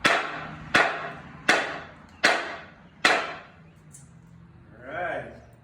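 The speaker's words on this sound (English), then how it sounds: "next we're going with the trusty hammer" Five sharp, ringing hammer blows land at an even pace during a DIY project, each strike decaying quickly, followed by a softer thud and a short voice.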